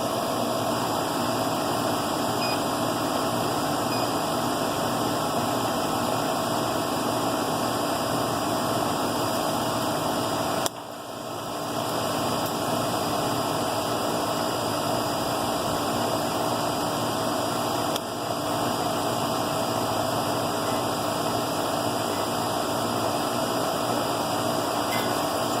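An air conditioner compressor unit hums and whirs steadily close by during a seasonal tune-up, a constant droning noise broken only by two brief dips.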